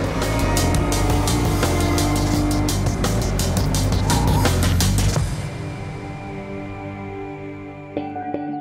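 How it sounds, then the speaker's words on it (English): An Aston Martin Rapide race car, a production-based road sedan converted for racing, drives at the Nürburgring during the 24-hour race, its engine roaring loud and steady before dropping away to a quieter interior rumble with a brief knock near the end. "Rapide is very much the road car made into a race car."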